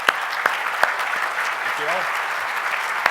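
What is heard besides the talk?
audience applause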